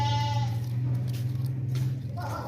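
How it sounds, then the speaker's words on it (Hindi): A desi Makhi Cheeni goat bleats in a sustained, fairly loud tone, close by and alone, with a nasal, wavering quality. "बहुत ही ज़बरदस्त बकरा है माशाल्लाह से"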